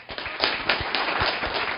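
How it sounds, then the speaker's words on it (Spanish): Applause from the audience at a book launch for a novel, a brief burst of steady, dense clapping with a few sharper individual claps standing out. "yo quisiera pedir un voto de aplauso grande, con mucho cariño para él"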